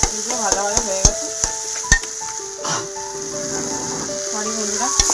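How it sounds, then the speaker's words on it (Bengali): A spatula clanks against a pan in several sharp knocks while spiced food fries with a soft, steady sizzle and gets stirred, the sounds close and fairly quiet. "এগুলো ভাজা ভাজা হয়ে গেছে।"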